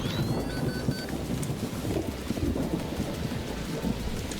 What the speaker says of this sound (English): See, so I miss a lightning strike there while I'm healing.